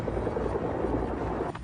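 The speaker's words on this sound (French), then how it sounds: "Soudain, plusieurs hélicoptères birotors arrivent au-dessus de leur tête" Several tandem-rotor Chinook helicopters pass overhead, their rotors giving a dense, loud, continuous rumbling roar that fills the whole moment without any voices.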